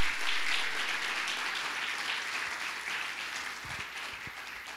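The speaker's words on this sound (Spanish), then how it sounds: "Le puede dar un aplauso a él porque él lo hizo." A church congregation applauds steadily, a dense wash of many hands clapping at moderate distance for several seconds.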